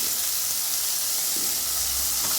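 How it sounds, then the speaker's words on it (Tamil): Turkey berries sautéing in hot oil with salt and turmeric for a Tamil turkey berry curry, giving a steady, fairly quiet sizzling hiss that runs unbroken throughout, with no voices. "சுண்டைக்காய் நல்லா வதங்கட்டும்"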